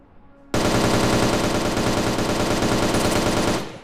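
Rapid automatic gunfire on a gun range in the VRChat video game, a sustained burst starting abruptly and holding loud and dense for about three seconds before cutting off.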